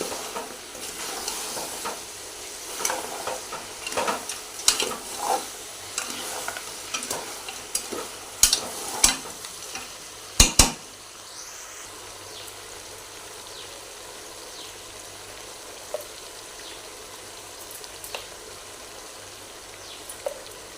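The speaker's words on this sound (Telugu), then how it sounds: "నూనెలా మంచిగా వేగింది కనుక నీరు మొత్తం పోయింది" Masala sizzles in hot oil for a Telangana-style goat head curry, with close spoon stirring and scraping against the pan over a steady frying hiss, strokes fading to quieter sizzling later.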